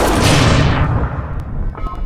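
A single loud, booming gunshot from the gun in the horror video game Amnesia: The Bunker, with a heavy low-end blast that decays over about a second, alone.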